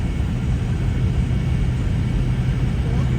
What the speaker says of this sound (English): Big old plane. Globe Master. It carries cargo.